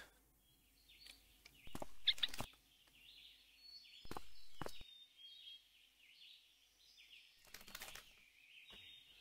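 Bird wings flapping in a video game, a few short bursts of fluttering beats separated by quiet stretches, with faint chirpy tones in between, fairly soft and close.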